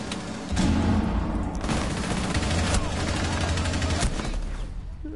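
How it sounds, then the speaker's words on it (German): Dense, rumbling gunfire and blasts fill a video game firefight, with a heavy burst near the start that could be a grenade going off and continuous shooting around it, under occasional voices. "Granate."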